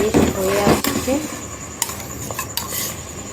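Carrot halwa being stirred in a pan, with a spoon scraping and clinking against the metal in a few sharp strikes over a low continuous sizzle; a voice is faintly present early on.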